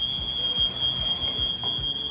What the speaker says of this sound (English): That's the smoke alarms.